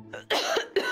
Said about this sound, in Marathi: का आलाय खोकला?